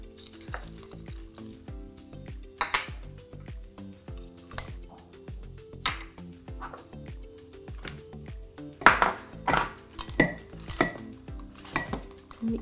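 Quinoa salad with olives, red onions and nuts being tossed in a bowl, with repeated clinks and scrapes of utensils against the dish and soft stirring rustles, denser toward the end, close and alone without talk.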